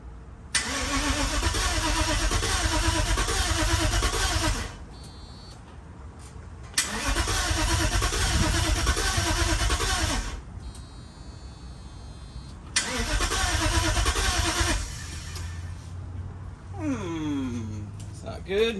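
A 1995 Mercedes S500 W140 with a fuel problem, just refilled with fresh gas, cranks loudly in three long starter bursts separated by short pauses, never catching, with faint sounds between attempts.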